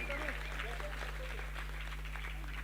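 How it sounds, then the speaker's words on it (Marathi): An audience at a dignitary welcome event claps for a team. The applause is faint and scattered under voices and a low electrical hum. "या टीमसाठी सगळ्यांनी टाळ्या बजाव"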